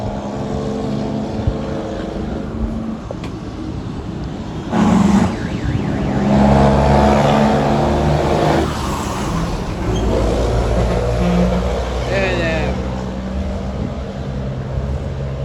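A Jamaican haulage truck's engine drones loud and close, swelling into a heavier rev midway and then holding a steady rumbling roar.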